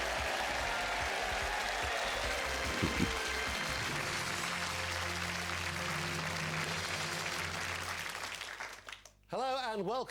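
A studio audience cheers and applauds loudly in the Who Wants to Be a Millionaire DVD game, a steady wash of clapping that fades near the end into a short tonal sting.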